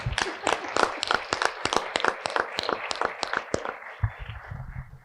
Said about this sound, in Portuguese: vamos aplaudir o personagem